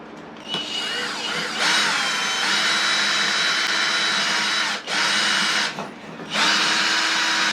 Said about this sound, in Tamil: ஸோ நம்ம வந்து ட்ரில்லு போட்டு பார்க்க போகிறோம்